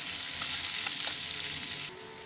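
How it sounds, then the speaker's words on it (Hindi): Chopped onions and green chilies sizzling in a pan, an even close crackle that drops suddenly near the end. "प्याज और हरी मिर्ची डालने के बाद इसे हरा हिला देंगे और 2 मिनट तक प्याज को लाल होने तक भूनने देंगे"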